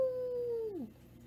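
A voice imitates a wolf howl, holding one long, steady howl that slides down and fades at the end, close and alone.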